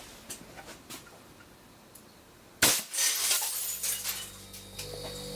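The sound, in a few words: air blow gun bullet smashing glass target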